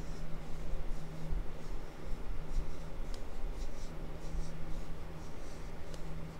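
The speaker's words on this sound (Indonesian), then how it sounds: "sekarang aku mau ngetes seberapa tahan si lip tint ini kalau misalnya aku hapus pakai micellar water" Lip tint is rubbed off skin with micellar water on a pad, giving a soft, steady close-up rubbing and scratching texture with faint brief ticks, quiet and with no talking.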